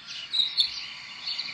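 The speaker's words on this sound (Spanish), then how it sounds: "Wow, te están hablando los pajaritos, Jessica." A finch sings a steady, high, thin chirping trill that runs continuously with a few brighter accented notes, moderately close and heard alone with no talk.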